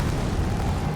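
Fire attack in Elden Ring, a brief rumbling whoosh-like burst with deep low-end roar, steady and moderately loud for about a second, no voices over it.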